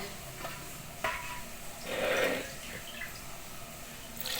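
A spoon stirring a yogurt mixture in a mug, with faint scraping and a brief louder swirl in the middle, close and quiet over background noise.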